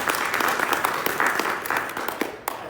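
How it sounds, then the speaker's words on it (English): A conference audience at an author event breaks into a round of applause, dense and sustained clapping from a large room throughout. "give yourself a round of applause."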